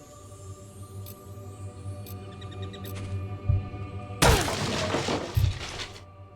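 A wooden barrel is smashed in the video game Fable, giving a sudden loud crash and splintering burst midway through. Quieter ambient game sounds with faint chirps play before and after it.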